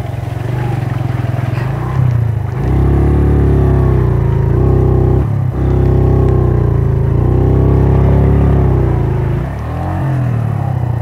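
A motorcycle on a muddy stretch of the BR-319 highway revs hard and strains, loud and close, its engine note rising and falling in repeated surges with brief dips between pulls.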